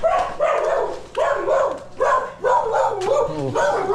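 A dog barks again and again in short, bright bursts, sometimes yipping or whimpering, close by in a rural house setting.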